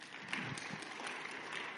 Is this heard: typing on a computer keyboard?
no